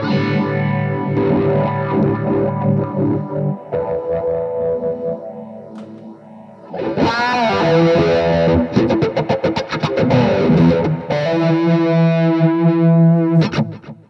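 Electric guitar runs through a wah-wah pedal and distortion for a Hendrix-style tone, playing loud sustained notes and bends with sweeping filtered vowel-like swells, briefly quieter in the middle before returning with choppy strummed bursts.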